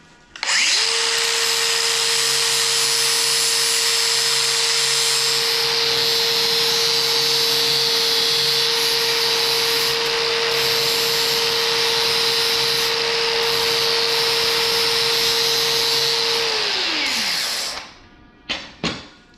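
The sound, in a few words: sanding the front edge of a 1967 Ford Mustang body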